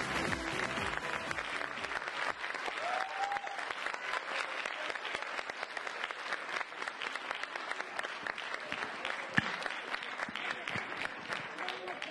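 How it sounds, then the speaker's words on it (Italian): A festival audience applauds a dance group with steady, sustained clapping that runs throughout, crowd-sized and moderately distant, with talk underneath. "Facciamogli ancora un bel applauso"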